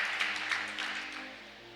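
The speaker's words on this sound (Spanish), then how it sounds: "le damos un fuerte aplauso a Cristo" A church congregation applauding, a dense wash of many hands clapping at moderate distance that gradually thins and fades over a couple of seconds, with no voices over it.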